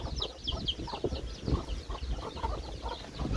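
A mother hen clucks steadily while keeping her young chicks with her, with faint high peeping from the brood and soft scratching nearby, a close farmyard sound with no talk.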